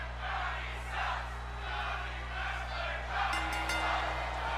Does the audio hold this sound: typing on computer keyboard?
no